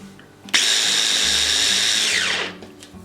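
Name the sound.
grinding almonds in a grinder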